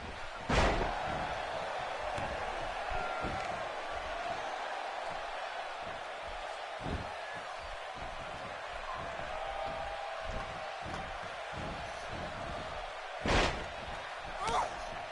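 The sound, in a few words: wrestler's face slammed into the mat during a headlock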